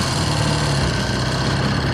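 A hardtail chopper motorcycle engine runs nearby, a steady loud rumble with a throbbing low pulse and no voices over it.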